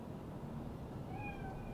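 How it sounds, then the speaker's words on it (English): Cat meowing in the video game Cyberpunk 2077, a single faint drawn-out meow rising and falling over quiet background noise. "Není to naše kočka?"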